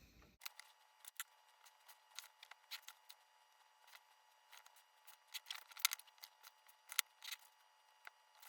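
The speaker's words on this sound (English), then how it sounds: "I am going to grab a piece of watercolor paper, cut it to fit right in here" Scissors cut a sheet of watercolor paper to size for a paint palette, giving faint, crisp snips in irregular clusters, close up in a quiet room.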